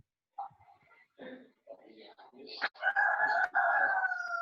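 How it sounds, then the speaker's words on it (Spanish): A rooster crows in the background of an indoor public-policy session, a long drawn-out call rising and holding near the end, with people talking and murmuring over it. "Se escucha un gallo por ahí."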